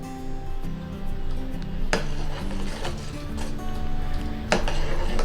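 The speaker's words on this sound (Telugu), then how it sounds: "ఇది కలుపుకుంటూ దీన్ని మరిగించుకోవాలి." A spoon stirs ragi malt in a pot as it boils, giving soft scraping and occasional sharp metallic clinks against the pot, steady and close, with faint background hum.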